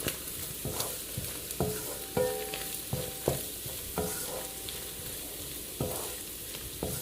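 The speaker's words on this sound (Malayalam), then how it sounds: "ആവശ്യമുള്ള അത്രയും ഉപ്പ് ഞാൻ ഇതിനകത്തൊന്ന് ചേർത്ത് കൊടുത്തിട്ട് ഇളക്കുന്നു" Shredded beef fries in oil with added salt while a spoon stirs it, giving a steady background sizzle broken by repeated scraping strokes and clinks against the pan, with no talking.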